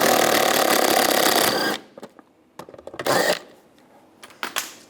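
A 10mm socket wrench removes nuts from the air deflector of a 1996-2002 Toyota 4Runner: a loud whirring run, then several short clicks and ratcheting bursts close by.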